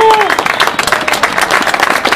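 A small crowd at a sports event claps in a quick burst of close, sharp applause, with a short whistle at the start and voices mixed in.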